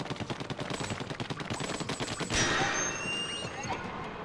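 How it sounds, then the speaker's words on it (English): Rapid rhythmic ink-shooter fire from the Splatoon video game stutters in a fast, even stream, followed by a splashing burst and fainter game effects. "Shoot ink to uncover entrances."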